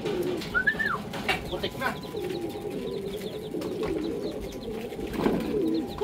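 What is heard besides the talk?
racing pigeon cooing on arrival at the loft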